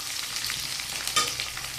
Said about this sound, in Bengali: সিমটা দিয়ে কিছুক্ষণ নাড়াচাড়া করে নেব।